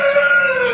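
Rooster crowing at a village house, a sustained bright cock-a-doodle-doo call held for nearly a second, close and fairly loud over faint background.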